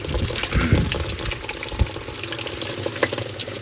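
Water pouring into a Homemaker 7kg washing machine as it fills: a steady, close rushing gush with small splashy surges, unbroken throughout and without voices.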